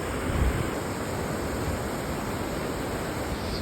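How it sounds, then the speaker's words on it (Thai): Clear, cool water flowing steadily near a bridge on a walking trail, a constant broadband rushing wash that stays even and fairly loud throughout with no voices. "น้ำไหลใสเย็น"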